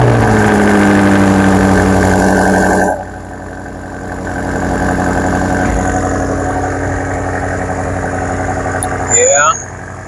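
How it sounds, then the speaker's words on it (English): A 2020 BMW X6M Competition SUV with a V8 engine idles with a steady, loud, low rumble for about three seconds, then settles to a quieter hum, with a brief squeal near the end and faint voices at times. "At least you get to hear the engine noise"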